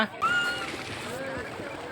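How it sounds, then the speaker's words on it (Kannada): A coracle, a round basket boat, rides on the Tungabhadra river, with a steady wash of sloshing and splashing water close by and voices talking over it. "ತೆಪ್ಪ ಡೋನಿ ಅರಗೋಲ್ದಾಗ ತುಂಗಭದ್ರ ನದಿ ಒಳಗೆ ನಾವು ಒಂದು ರೌಂಡ್ ಹಾಕಿ ಹೊಂಟಿವಿ"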